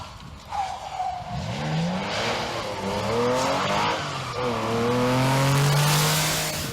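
Porsche 911 rally car on a historic Welsh stage, engine revving hard through gear changes with tyre scrabble as it sweeps past, loud and near.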